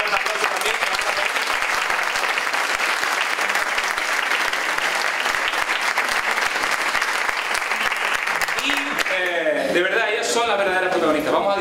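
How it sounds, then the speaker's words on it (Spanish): An audience at a folk dance show applauds in a dense, sustained burst of clapping, and toward the end a voice starts speaking over the fading applause. "los aplausos que han hecho esta tarde, que han hecho vibrar todo esto"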